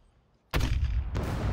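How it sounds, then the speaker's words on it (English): RPG rockets fired at mechs in the video game Scum: after a quiet start, a sudden loud blast breaks into a heavy sustained roar, followed by a second punchy launch about half a second later. "So we're going to fire off some RPGs at these"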